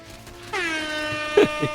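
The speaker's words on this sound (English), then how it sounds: "you just play the air horn" A single loud air horn blast sounds, sustained and brassy, with a brief sharp noise near the end.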